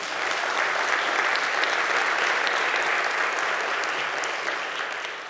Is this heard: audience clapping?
yes